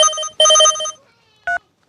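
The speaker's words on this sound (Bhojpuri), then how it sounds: "हमरा पापा के फोन बा" A telephone rings with bright electronic trilling tones in two loud close bursts, followed by a brief shorter beep, with silence between and no talk.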